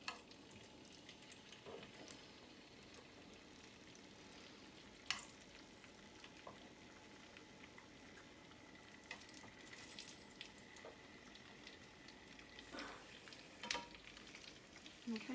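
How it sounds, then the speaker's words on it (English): Food sizzles steadily in hot oil, a soft continuous crackle with occasional louder pops and clinks, fairly quiet and without speech. "Okay, so you can hear that sizzling."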